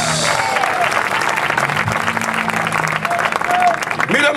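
A church congregation applauds during a Bible Day sermon, a steady, full wash of clapping from many hands that continues evenly for the whole stretch.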